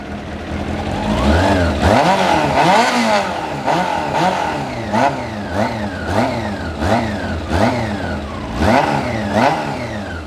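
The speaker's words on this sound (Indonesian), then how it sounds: "Baru dia berasa suara moge-nya di RPM tinggi" A loud, close Honda CB400 motorcycle engine revs repeatedly, pitch climbing sharply to high RPM then falling back, in a series of throaty bursts.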